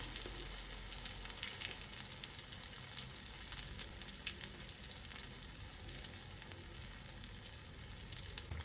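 Batter for egg appam frying in hot coconut oil: a soft, steady sizzle with fine crackling that continues throughout, fairly quiet and with no talking.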